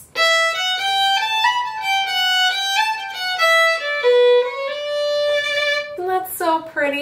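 Solo fiddle playing a melodic variation of the Irish hornpipe King of the Fairies, a clear, close bowed line of sustained and moving notes, ending with a brief sliding flourish.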